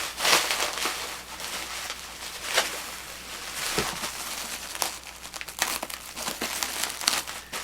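Bubble wrap packing is ripped off a NewTek TriCaster TCXD40 during unboxing, giving a steady close crinkling and crackling with sharp tearing bursts throughout.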